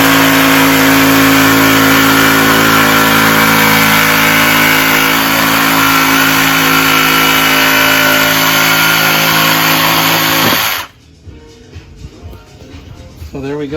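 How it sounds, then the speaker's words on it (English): A saw fitted with a 32 TPI metal blade cutting FRP panel inside a Sprinter van shower build, a loud continuous buzzing rasp held for about ten seconds before stopping abruptly, followed by brief talk. "we're cutting the FRP here. I'm just using a metal blade, 32 teeth per inch, and it's working pretty good."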